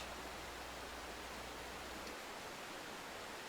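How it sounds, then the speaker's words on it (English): Waterfalls on Baranof Island in Southeast Alaska give a steady, soft, hissing rush of falling water, continuous and even, with no other sounds. "The only sound is the whisper of waterfalls."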